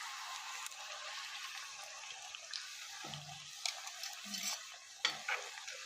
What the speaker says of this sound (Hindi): इसी तरह हम तमाम पिनव्हील बाइट्स को फ्राई कर लेंगे